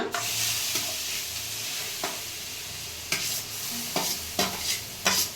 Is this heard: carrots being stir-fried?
yes